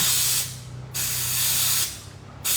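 An air conditioner cleaning spray gun sprays in two steady hissing bursts, a gap between them and a third burst starting at the end, close and loud over a low background hum.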